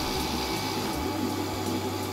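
A small laser engraving machine runs with its built-in air filter on in a home workspace, giving a steady, even whir and hum that continues without pause at close range, with no talking.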